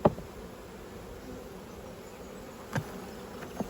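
Honey bees hum softly in an opened weak beehive, a thin, steady insect drone with a few brief knocks and handling thuds, no voices.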